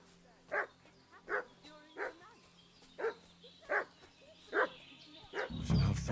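Dog barking in the medieval Bohemian world of Kingdom Come: Deliverance 2, about seven evenly spaced loud barks at moderate distance over a quiet ambient bed, ending in a low rumbling thud.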